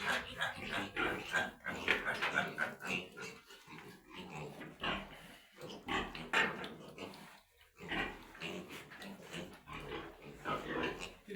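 A small pig grunts and snuffles repeatedly, close and fairly loud, with people talking over it throughout.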